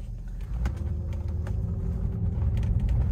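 Inside a moving Mercedes-Benz 560SEL, a low steady road rumble and engine hum fill the cabin, with a few faint clicks and light taps over the drone.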